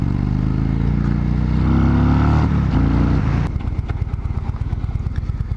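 An Indian Chief Dark Horse motorcycle engine idles close by with a loud, even, throbbing rumble, briefly swelling before settling into a steady rapid pulse of firing beats.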